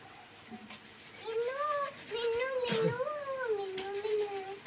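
A cat gives several drawn-out, wavering meows in a rural Gujarati household, fairly close and clear over quiet background noise.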